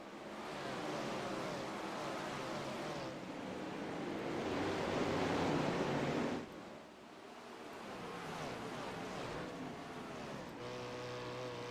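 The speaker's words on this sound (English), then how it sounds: "Going to let you hear these sprint cars roar as they fire it off into turn 1" Sprint cars roaring into turn 1 at Lanier Speedway, a continuous heavy wall of engine noise from the pack, loud and sustained, dipping briefly before swelling again as the cars power through.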